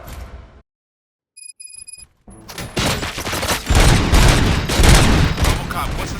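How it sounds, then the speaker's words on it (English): A short electronic beeping pattern, then a loud burst of rapid gunfire that keeps on in dense volleys with booms, close and intense, in the video game RoboCop: Rogue City. "Gunshots? What's going on?"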